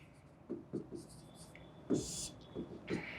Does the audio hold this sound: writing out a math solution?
yes